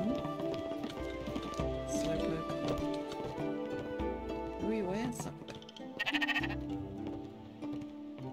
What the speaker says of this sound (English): We got sheep.